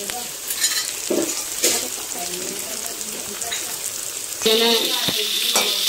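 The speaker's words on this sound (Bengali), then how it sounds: "আলুটা ভেজে দিচ্ছি আমি গ্যাসে।" Potatoes fry in a pan on a gas stove with a steady sizzle and occasional scraping stirs, close up, while people talk intermittently in the background.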